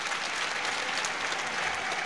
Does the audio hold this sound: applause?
yes